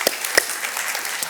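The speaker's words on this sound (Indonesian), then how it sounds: "Dengan tepuk tangan untuk Tuhan Yesus." A church congregation applauds during a Sunday service, a short burst of close, steady clapping with a few sharp louder claps near the start.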